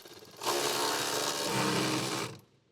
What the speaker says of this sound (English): Using the 7mm socket with the electric ratchet, tighten the clamp on the fuel feed hose.